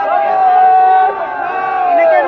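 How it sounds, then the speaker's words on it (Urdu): A large religious gathering chants slogans together in loud, sustained unison, one drawn-out call dipping briefly before the chant rises again. "اور کھڑے ہو کر نعرے لگائیں"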